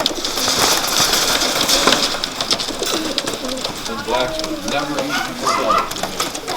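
Racing pigeons coo in a loft, with soft repeated coos and rustling over a busy bird-filled background and someone talking throughout.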